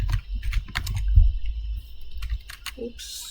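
Rapid clicking keystrokes on a computer keyboard while HTML code is typed, a close, steady patter of taps with short pauses and no talking.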